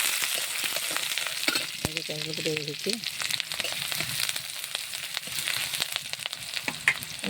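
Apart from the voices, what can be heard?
spiny gourd (kakrol) frying in a pan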